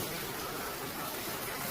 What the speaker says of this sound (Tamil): மழை இன்னும் பயங்கரமாக மழை புழிஞ்சிட்டே தான் இருக்குது